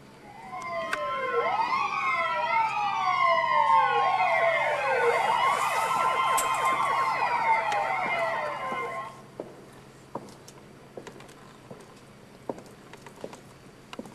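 An ambulance siren wails loudly with overlapping, sweeping up-and-down tones for about nine seconds, then cuts off, leaving a quieter scene with scattered small knocks and clicks.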